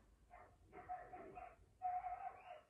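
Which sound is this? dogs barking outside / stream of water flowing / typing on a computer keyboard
dogs barking outside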